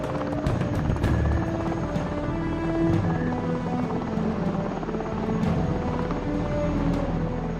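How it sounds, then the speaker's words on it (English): A military helicopter lifts off from a warship deck and heads out to scan a minefield, its rotor producing a loud, steady rhythmic thumping over a deep engine drone and turbine whine, close and continuous with no talking. "The helicopter heads out to scan the minefield."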